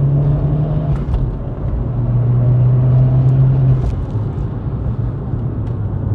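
A Vauxhall Corsa VXR engine drones steadily while the car is driven along a straight road. It gives a loud, close, continuous hum whose pitch rises and falls slightly as the revs shift.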